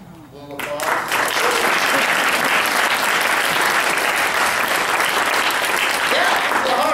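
A theater audience at a magic show claps for a trick, the applause swelling in quickly after a quiet moment and then holding as a loud, dense, sustained wash of clapping.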